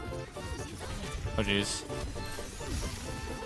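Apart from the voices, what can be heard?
sneeze while playing Overwatch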